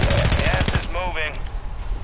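Rapid gunfire from a Warzone 3 battle royale match bursts loudly in the first moments, dense repeated shots, then gives way to a ringing game effect and a low background rumble.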